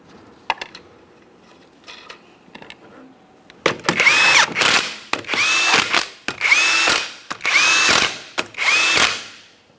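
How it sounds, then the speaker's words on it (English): An impact power tool runs down 19mm lug nuts on a Jeep Patriot wheel in five loud, evenly spaced bursts, each ending in a rattling hammer, after a few quiet clicks and handling noises. "We're starting on all 5 of our 19mm lug nuts. We'll bottom them out."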